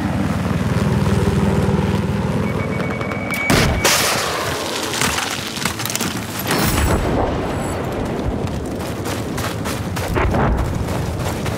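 An enemy helicopter in the Battlefield 4 video game, its loud rotor drone running steadily through the whole stretch, with sharp booms and blasts of battle cutting in over it.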